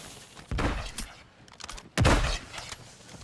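Gunfire in the Warzone video game, two loud bursts of shots about a second and a half apart with softer single cracks between, close and punchy, no talk.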